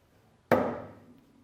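A single hard hammer blow lands on a ceramic pressure-measuring cell in a tomato-processing measurement setup. It gives a sharp, loud, close impact with a ringing tail that fades over about a second.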